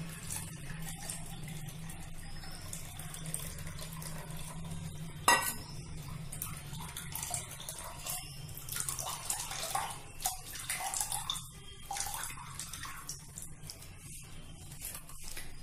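Water from washed rice is poured off through a strainer in a home kitchen, a steady wet pouring and splashing with a sharp clink of utensil against pot partway through.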